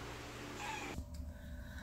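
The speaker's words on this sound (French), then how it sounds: "vous allez l'entendre miauler, c'est normal." Cat recovering from stomach surgery gives a soft, close meow, faint and brief, followed by quiet room noise.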